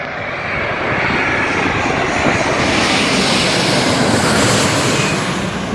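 A loud, steady Rolls-Royce Trent XWB airliner jet engine roar fills the whole stretch, a broad continuous rumble and hiss with no pauses and no voices.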